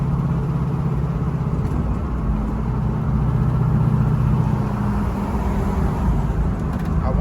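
A 1968 Chevy Camaro Convertible engine runs steadily with a low, continuous rumble and no breaks, like a vehicle cruising along.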